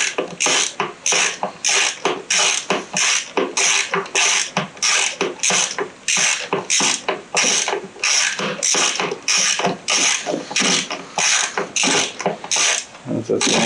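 Bolt being threaded in by hand deep inside a Vermeer RT100 trencher, giving a steady run of close, rapid ratcheting clicks repeated throughout, loud and continuous with no talk over it.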